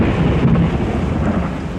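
Thunderstorm with heavy rain and deep rolling thunder, a continuous loud low rumble with steady rainfall and no voices.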